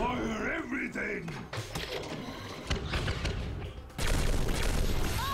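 Weapons discharging in the Atlas Reactor video game, with bursts of booming shots and mechanical clatter layered under excited player talk.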